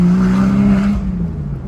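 A Porsche Boxster S with newly installed headers revs loud and close on a test drive, its engine note droning steadily and then dropping in pitch as it eases off.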